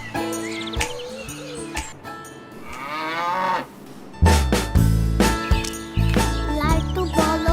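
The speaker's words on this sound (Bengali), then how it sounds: "আনসানা আনসানা মামুনি তোমার গরু একটু আদর করে দাও তো।" A cow moos loudly and close by in a home farmyard during Eid, its deep drawn-out lowing beginning midway and carrying to the end, with people talking faintly in the first half.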